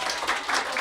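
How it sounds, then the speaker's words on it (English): An audience at a memorial prize celebration claps for the prize winners, a short burst of many hands clapping at close range. "We are clapping for them, Even though they are not here."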